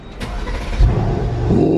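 A car engine turns over and catches, settling into a steady idle with a slight rise near the end, heard close up inside a vehicle during a family holiday in America.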